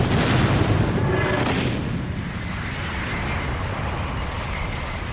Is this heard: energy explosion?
yes